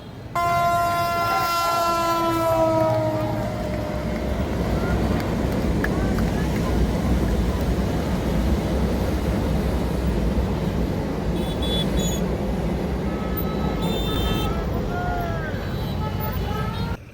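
A train runs on a rail line beside a road flyover at a busy highway junction, making a continuous loud rumble mixed with traffic noise, with a brief musical tone near the start.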